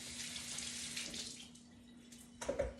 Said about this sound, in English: Give me 2 seconds to just rinse my hands because they're awful.